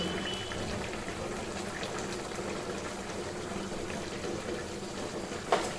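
Liquid with vegetables simmers in a cooking pot before fish is added, a steady close bubbling and burbling wash with one sharp clink near the end.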